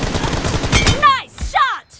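Gunshots in a video game team deathmatch: a rapid burst of loud gunfire over game noise, then two sharp separate shots with ringing tails, close and alone.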